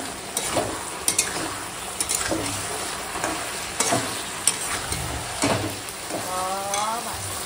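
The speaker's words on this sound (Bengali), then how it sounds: "এখন মুড়োটা একটু ঘেঁটে দেবো" Rohu fish head being stirred with Malabar spinach and pumpkin in a frying pan, a constant sizzle broken by repeated scraping and clacking spatula strokes, close and fairly loud.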